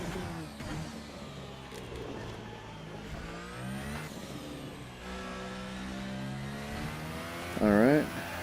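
An F1 race car engine in a racing video game at the Chinese Grand Prix, its close, steady whine stepping down in pitch through several downshifts, with a brief sharp burst near the end.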